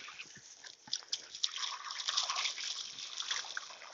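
Water trickles and splashes into a rainwater cistern that also collects groundwater and spring water in the Appalachian winter, a close, bright, continuous dribbling with uneven surges and small sloshes.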